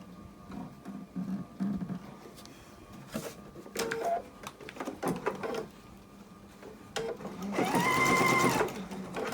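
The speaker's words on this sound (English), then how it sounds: "And sew down approximately 1 inch, and again engage our locking stitch so that it tightens off." A sewing machine stitches down the binding of a potholder, running in short bursts with pauses, then a longer steady whir near the end; close and fairly loud, with no talking.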